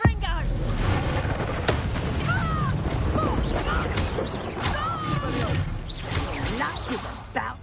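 A Confringo blasting spell bursts in Hogwarts Legacy amid rumbling booms, whooshes and mechanical clatter from combat, loud and continuous, with game voices talking throughout.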